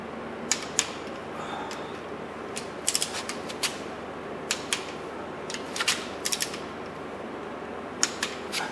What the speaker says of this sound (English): Finally, just torque them down